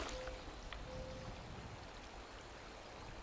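River water flows steadily in Fallout 76, a soft continuous wash with faint trickles and no voices.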